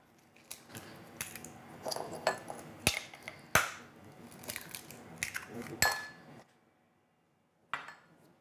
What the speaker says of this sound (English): I'll crack in 2 eggs.